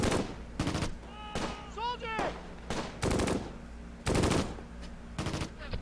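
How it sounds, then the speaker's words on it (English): A tank-mounted heavy machine gun firing in the video game Close Combat, repeated loud bursts of rapid shots in an uneven rhythm, with brief whistling sounds between them. "another one down with the heavy machine gun there on the tank"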